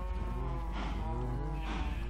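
Cows mooing in the video game Minecraft, several drawn-out low moos overlapping one another, fairly loud against steady background game noise, with no talk.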